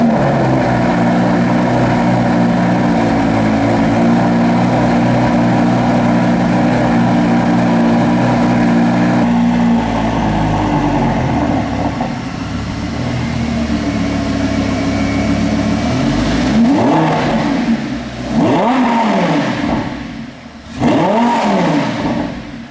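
A Lamborghini Gallardo Super Trofeo Stradale engine idles loud and steady up close, then after a pause blips the throttle in two sharp revs near the end.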